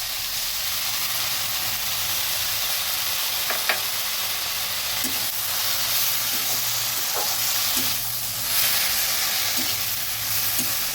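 Mustard paste with poppy seed and green chillies sizzling in a pan for a Bengali pumpkin flower curry, a steady close frying hiss with faint stirring clinks, no talk.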